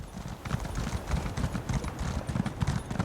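Steady clip-clop of video game horse hooves trotting nearby, an even repeating rhythm with faint background sounds and no clear speech.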